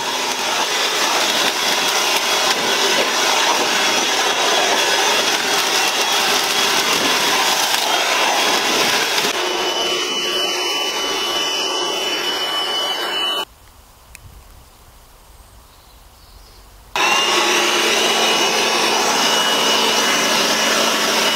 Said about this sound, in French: le souffleur les nettoie sans problème.